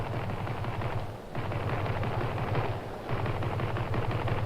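Sustained machine-gun fire from enemy motor launches somewhere ahead at sea, a dense continuous rattle that dips briefly twice before resuming, loud and steady without any voices.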